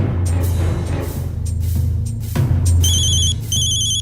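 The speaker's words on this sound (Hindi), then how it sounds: "वीर जी का फोन" A phone ringtone chirps in repeated electronic bursts, loud and close, over a low background hum.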